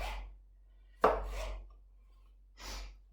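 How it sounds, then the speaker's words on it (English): A knife cutting through capsicum on a chopping board while cooking Greek chicken, a couple of crisp close chops separated by short pauses. "Don't cut off the top of your capsicum because you waste too much."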